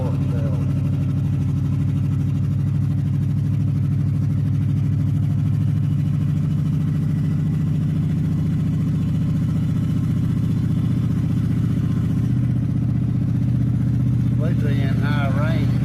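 A poorly running vehicle engine, struggling to pull and sitting in first gear, drones steadily and loudly up close with a low uneven hum throughout; a voice is briefly heard near the end.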